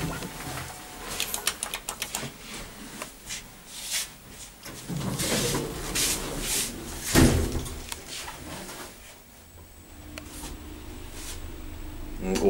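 Doors of a traction elevator modernised by ThyssenKrupp at Landskrona town hall rumbling, clunking and sliding, then the car hums as it travels, heard close in a quiet space with brief conversation between people.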